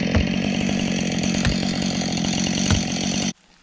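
A loud chainsaw runs steadily at high revs close by, cutting continuously through tree stumps in a pasture, then cuts off abruptly at the end.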